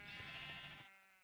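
A single sheep bleats in VintageCraft, a clear wavering bleat lasting about a second, faint in level and alone, trailing off at the end.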